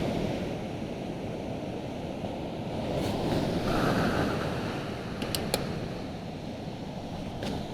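Waves rolling onto a beach with surfers offshore, a constant broadband roar of surf that swells midway, with wind rumble on the microphone and a few faint sharp clicks near the end, no talking.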